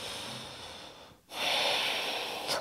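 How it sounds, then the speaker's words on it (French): Deep breathing during an ashtanga yoga pose: a long, close, airy breath that pauses briefly, then a fuller, rushing breath, with no talk. "Et ici, 5 respirations."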